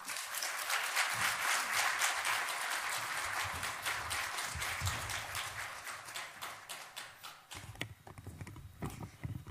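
A church congregation at an evangelism festival applauds as a pastor's wife comes forward to give her testimony, with sustained, fairly faint clapping that breaks into scattered individual claps toward the end.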